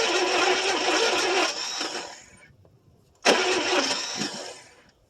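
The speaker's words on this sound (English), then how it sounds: "That starter don't like to engage all the time either." Starter on a 1974 International pickup that has sat for about 25 years cranks the engine in two loud, close bursts, the first about two seconds long, then a short pause and a second crank of similar length with no catch.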